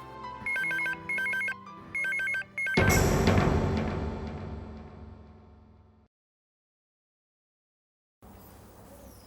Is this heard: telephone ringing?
yes